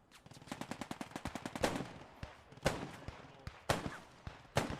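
Heavy WWII-style gunfire exchange in the video game Post Scriptum, with Bren and Sten guns against German MGs: a rapid machine-gun burst opens, then single loud shots and short bursts crack out at uneven intervals.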